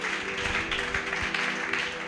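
A church congregation claps and applauds loudly in a continuous, dense wash of hand claps, with a sustained musical tone underneath and a few voices mixed in.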